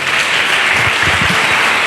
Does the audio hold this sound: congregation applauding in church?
yes